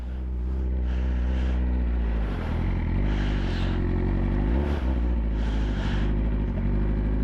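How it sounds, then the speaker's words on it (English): A motorcycle pulls away as the clutch is let out and throttle applied, its engine droning steadily and rising in a few revving surges, loud and close throughout with no voices. "that right there is how you start the motorcycle and roll"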